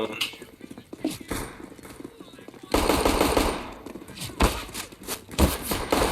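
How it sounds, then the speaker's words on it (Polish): Rapid bursts of gunfire from the video game CS:GO crack repeatedly, loud and close with some distant shots, mixed with game noise while someone talks over the action. "kto mnie strzela?"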